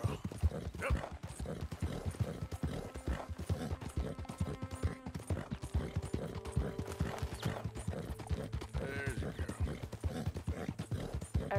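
Horse hooves clip-clop steadily through the Red Dead Redemption 2 video game, a brisk, even rhythm of hoofbeats running the whole way with game music and faint effects layered beneath.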